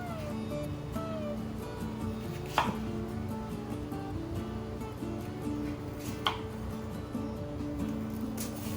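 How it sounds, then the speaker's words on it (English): An onion being cut in half and quartered with a knife for a smoked beef rib recipe, a few sharp knife strikes against a board, spaced seconds apart over a steady background hum. "Okay, we got the onion out. I'm just going to cut it in half and quarter it up a little bit."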